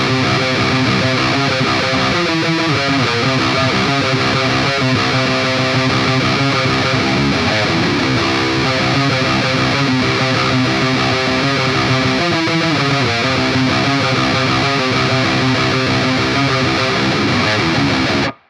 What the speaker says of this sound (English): So we're gonna play the whole thing again, but a little bit faster